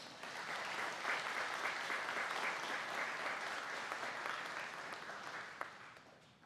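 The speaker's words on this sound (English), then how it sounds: "Let's give them a round of applause" Wedding guests applaud steadily after the couple share their vows, a dense, even wash of clapping that holds for several seconds before gently tapering off at the end.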